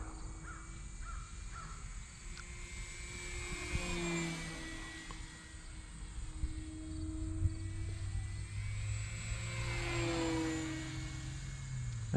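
A Volantex Trainstar Epoch RC airplane flying at just over half throttle, its faint, distant electric motor whining steadily and shifting in pitch as it passes overhead.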